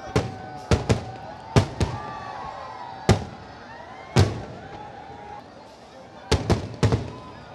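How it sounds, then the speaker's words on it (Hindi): Fireworks burst over the ghats of Kashi during Dev Deepawali, sharp booming explosions in irregular clusters, some close together and others spaced a second or more apart, with a crowd murmur and a voice talking underneath. "वो भव्य आतिशबाजी जो इस वक्त आप मेरे ठीक पीछे देख पा रहे हैं"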